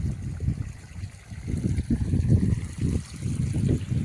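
Irrigation water trickles and gurgles steadily along the furrows of a chickpea field, close and continuous, with no voices.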